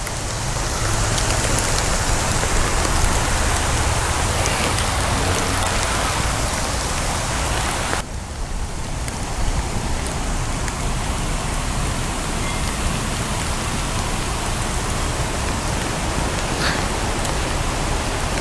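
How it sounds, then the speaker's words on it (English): Steady rain falls outdoors with wind, a continuous broadband hiss of drops striking surfaces close by. It holds at an even level throughout, and a brief dip partway through is followed by the same constant downpour. "We're getting some rain now."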